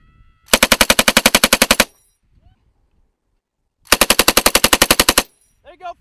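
Machine gun fire during Marine live-fire training outdoors: two loud, rapid bursts of about fifteen evenly spaced shots each, separated by a pause, with a brief voice at the end.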